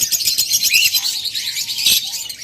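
A pair of red-eye lutino Fischer's lovebirds chirp busily, their high, shrill tweets overlapping in quick, continuous bursts at close range.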